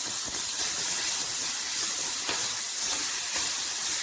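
Shallots, ginger and garlic sautéing in coconut oil in a clay pot for a Kerala fish curry, giving a loud, steady hiss-like sizzle that runs close and unbroken throughout.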